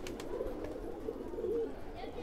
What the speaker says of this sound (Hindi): मगर क्या गजब कबूतर रख रखे हैं आपने